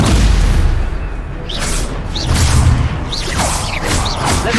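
A Stupefy spell is cast in the Hogwarts Legacy video game, with several whooshing, swooping bursts over a loud, continuous rumbling bed of booms and game effects, without speech.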